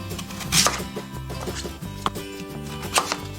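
A knife cuts through a medium 1.5 kg homegrown radish with its skin on, for a soy-sauce pickle, producing a series of close, uneven chopping knocks against a board.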